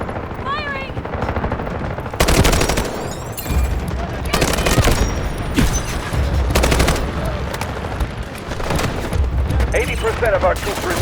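Rapid automatic gunfire and scattered shots from a Garena Delta Force match, dense and loud in repeated bursts, with in-game voice callouts heard alongside.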